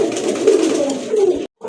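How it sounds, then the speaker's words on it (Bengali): A pigeon coos in a soft, rolling low murmur close by, the call running steadily for under two seconds before it cuts off. "বাম পাশে ওইটা হচ্ছে মাদি কবুতর"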